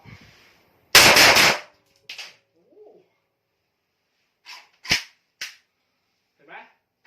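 Blank-firing Dragio long rifle test fired, one loud sharp report followed by several fainter pops and clicks, with brief bursts of sound scattered across the rest.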